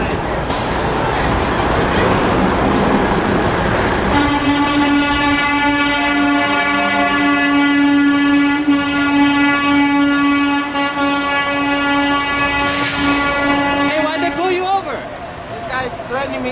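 Port trucks sound loud, sustained horn blasts at a street protest outside Oakland City Hall, the harmonic tones holding steady for about ten seconds over crowd noise and voices, then fading out.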